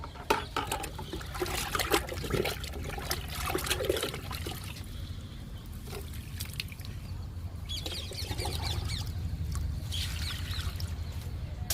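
Liquid fertilizer pours and trickles onto potted flowering plants after rain, a steady close splashing and dribbling that runs continuously with small surges, birds faint in the background.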